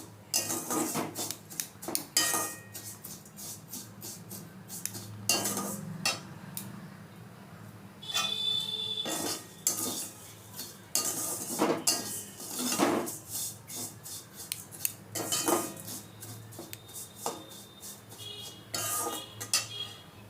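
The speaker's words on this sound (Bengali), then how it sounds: "সিমুইটা ভাজাই আছে, একটু ঘি দিয়ে নাড়িয়ে নিচ্ছি।" Fried vermicelli is stirred with ghee in a pan, a spoon scraping and clinking against metal in irregular bursts with brief quiet pauses, close and moderately loud, no voices.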